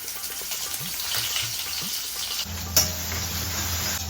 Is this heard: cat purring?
no